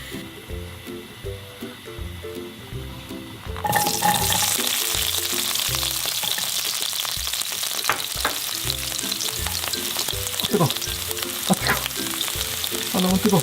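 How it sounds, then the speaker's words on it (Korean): Garlic hits a hot pan in a home kitchen for pasta, and the sizzle jumps loud partway through, then holds a steady, bright crackle over soft background music. "마늘을 볶도록 하겠습니다"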